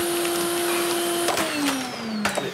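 Vacuum cleaner running indoors with a steady high whine that drops in pitch partway through, punctuated by a few knocks and bumps as it is pushed around.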